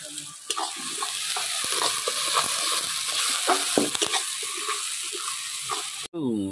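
Fish sizzles and fries in a pan with masala, a continuous crackling hiss broken by small pops and the scrape of stirring, with brief muffled voices over the top.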